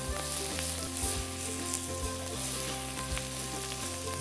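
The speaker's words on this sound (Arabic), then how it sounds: "خليه يتقلى مليح مع البصل" Lamb meat frying with onions in a pan, a steady, fairly quiet sizzle running throughout with a low background hum and occasional faint stirring clicks, no voices.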